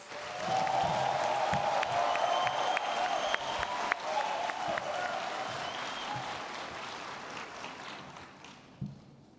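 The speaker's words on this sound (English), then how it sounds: "A round of applause for him, please" Conference audience at a Kigali pitch event applauding the chairman onto the stage, a long even wash of clapping with scattered cheers that gradually thins and fades near the end.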